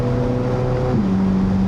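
Chevrolet C8 Corvette Z06 on the move, its engine a steady droning hum with a sustained tone that steps down in pitch midway, as if shifting gear, heard from inside the cabin at a continuous level.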